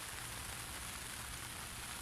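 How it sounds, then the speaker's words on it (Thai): Steady rain falling at a natural fishing spot, a constant broadband hiss of drops on surfaces, faint and even throughout with no talking. "ฝนตกมากเรื่อยๆอยู่นะครับ"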